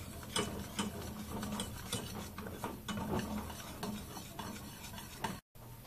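A utensil stirs cherries for a black forest cake, making a string of quiet, rhythmic scraping and clicking strokes with a soft sizzle beneath, ending in a brief moment of silence.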